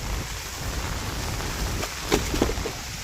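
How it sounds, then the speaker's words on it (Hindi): Heavy rain falls steadily during a flash flood in Manali, Himachal Pradesh. It makes a dense, constant hiss with a few sharper drips and splashes near the end, loud and enveloping, with no voices. "इधर काफ़ी ज़ोर से बारिश हो रही है"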